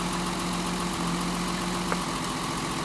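A gasoline engine with a misfire idles roughly as the number two spark plug lead is pulled, a steady low drone with a small click partway through, after which the running note shifts and sags slightly.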